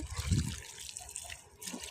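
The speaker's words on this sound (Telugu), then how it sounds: "నీళ్ళు పోసుకొని ఇలా" Water splashes and gurgles briefly as it is poured onto soil where okra seeds are sown, then continues as a softer trickle and patter, close by with no talking.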